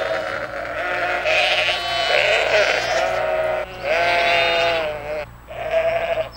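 A ewe bleats repeatedly, calling for her lamb in several loud, wavering calls separated by short pauses, with a faint low rhythmic thumping beneath.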